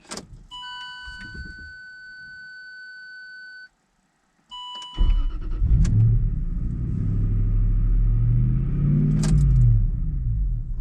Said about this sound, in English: Seems to send the target idle speed really ridiculously high.